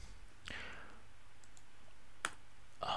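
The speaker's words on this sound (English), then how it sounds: "Let me just type in the same kind of stupid messages just to show it works." Someone types messages on a computer keyboard, producing a few sparse, crisp key clicks in a quiet room with long pauses between them.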